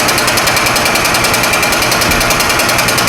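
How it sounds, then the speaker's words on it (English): A milling machine cuts a brake rotor with a loud, relentless rapid chatter and grinding whine, steady and close throughout. "And this is just a simple milling job."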